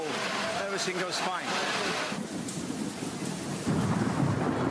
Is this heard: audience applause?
no